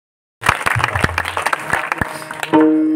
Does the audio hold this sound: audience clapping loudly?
yes